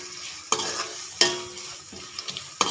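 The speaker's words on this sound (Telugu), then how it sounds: "ఇట్లా ఉల్లిపాయ పచ్చిమిరపకాయ వేసి వేయించుకున్నాక" Onion and green chili frying in a tempering sizzle softly and continuously, while a spoon scrapes the pan in distinct strokes every half second or so.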